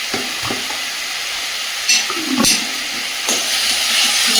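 Vegetable curry of garden vegetables sizzles steadily in a pan as ginger paste goes in, a constant frying hiss broken by a few sharp stirring scrapes and clatters.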